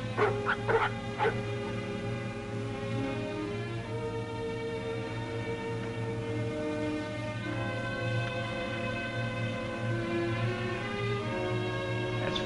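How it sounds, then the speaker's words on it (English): Several sled dogs in the Yukon bark, yip and whimper from a moderate distance, the cries strongest near the start and continuing in a restless chorus over steady background hum. "What in thunder is ailing those dogs?"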